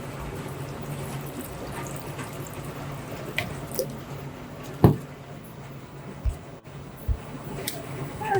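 Water is poured into a rock tumbler barrel with howlite and baking soda, a steady trickling wash broken by a few small drips and clunks, moderately close and with no voices.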